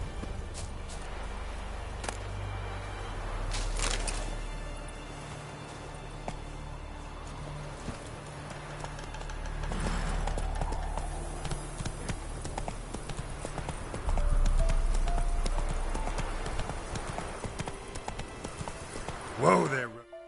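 Roach, a horse in the Witcher 3 video game, clip-clops along with rhythmic hoofbeats throughout, close and clear, while a voice speaks over the galloping.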